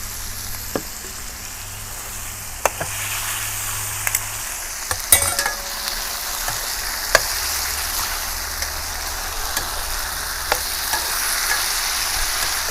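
Pork belly stir-fries in a pan with oyster sauce and soy sauce, a steady sizzle broken by sharp scraping clicks of a spatula at intervals, heard close and without talk.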